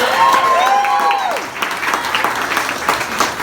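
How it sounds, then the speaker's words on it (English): A crowd at the Belmont in Austin, Texas applauds the teachers, loud steady clapping with a few whoops and whistles early on. "Can we give a round of applause to the teachers?"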